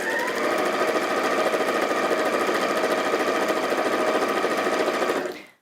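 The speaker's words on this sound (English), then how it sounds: "we're simply going to sew along that raw edge, removing the pins or the clips as we sew" A sewing machine runs steadily as it chain-stitches fabric strips along their raw edges, a loud, continuous mechanical whir that holds for several seconds before stopping abruptly.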